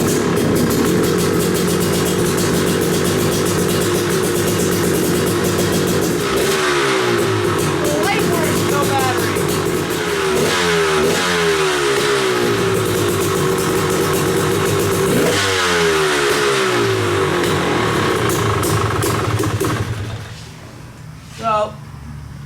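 A Yamaha Tenere 700 motorcycle, recently drowned, starts on choke and revs in repeated rising bursts, its loud engine steady and close throughout before dropping away near the end.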